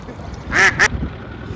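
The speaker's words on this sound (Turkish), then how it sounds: "Arkadaşlar kaz varmış." Two quick, nasal honks from a goose sound close by against a quiet outdoor background on a farm.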